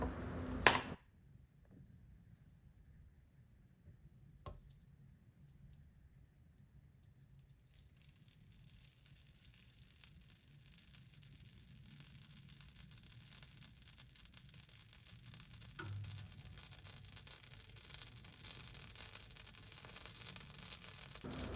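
Chicken frying in hot oil on a stove for malai chicken tikka, a sharp clack at the start, then a soft, steady sizzle that builds and stays faint, with no talking.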